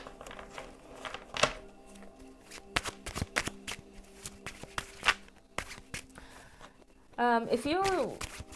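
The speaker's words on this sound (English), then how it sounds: "I feel like I need to shuffle it slightly differently." Tarot cards are shuffled in quick riffling bursts and soft slaps, close by, with a brief voice near the end.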